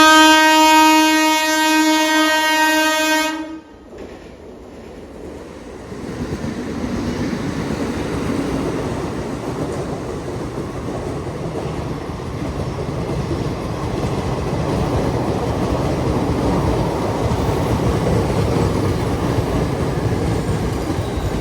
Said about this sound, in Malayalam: മറ്റേ തിരുച്ചിറപ്പള്ളി നിന്ന് അഹമ്മദാബാദ് പോകുന്നൊരു സ്പെഷ്യൽ ട്രെയിൻ വരുന്നുണ്ട് കേട്ടോ.